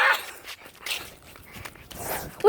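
A puppy plays and scampers close by, with quick padding steps, small whimpery noises and a few sharp bursts, amid irregular scuffling movement.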